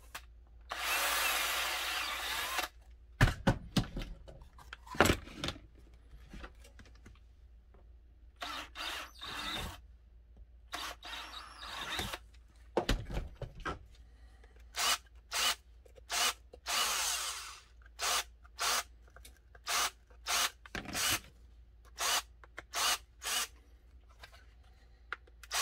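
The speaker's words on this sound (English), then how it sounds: "We're gonna drill underneath those and go from there." A power drill whirs in short repeated bursts, near and loud, with quiet gaps between them and a few clunks of handling.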